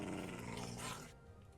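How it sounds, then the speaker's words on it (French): Dog growling in a Minecraft modpack, a short low rumbling snarl close up that fades out after about a second. "le cabot il arrête de grogner là"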